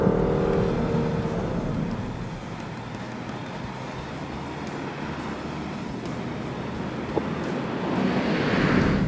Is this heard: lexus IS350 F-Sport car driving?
yes